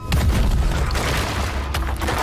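A loud, sustained booming blast with a heavy low rumble as a punch bursts open an extremely hard door, lasting a couple of seconds.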